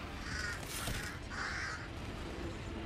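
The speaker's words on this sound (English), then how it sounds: "There's like bird sounds now." Crows caw in a video game, two or three harsh calls in quick succession over a steady ambient background, with no talking.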